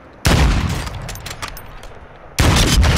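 Rifle shots in Call of Duty: Modern Warfare II: two loud, close, booming reports about two seconds apart, each with a long rumbling tail that fades out, and no talk during them.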